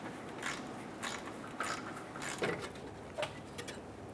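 A wrench loosens a 10mm bolt on the bottom of a car's fan assembly, making faint, close ratcheting clicks in short repeated bursts over a low background hum.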